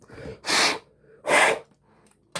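Two sharp nasal sniffles a second apart, then a brief third sniff at the end, close and fairly quiet.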